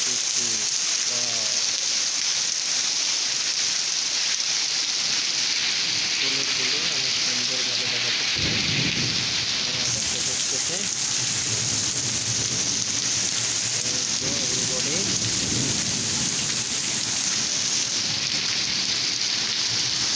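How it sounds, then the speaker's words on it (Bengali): Heavy rain pours steadily over a school field, a dense, constant hiss running the whole way through, with a voice talking over it in places. "ড্রেন কাজ করতেছে না এত বৃষ্টি হচ্ছে মাঠ আর কিছুক্ষণের মধ্যেই ভরপুর হয়ে যাবে"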